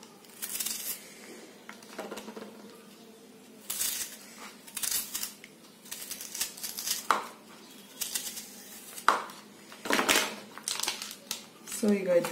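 Chopped onion is tipped into a pan while egg curry cooks, giving scattered clatters, scrapes and rustles of utensils and ingredients against the pan, moderately close, with brief moments of quiet between bursts.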